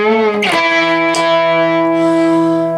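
Electric guitar with distortion, played as a heavy-toned passage from a country song: two loud picked attacks ring out, then long sustained notes with rich harmonics, close and loud with no talking.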